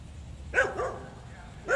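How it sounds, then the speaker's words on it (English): A dog barking in the distance during a golf-style outdoor event, two short faint barks about a second apart over quiet background noise. "the dog barking in the background"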